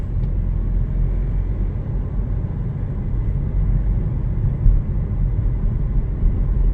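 A Renault car engine idling along at low revs, under 1500 rpm, with a slight jerking: a steady, fairly loud low rumble that runs throughout, with no speech.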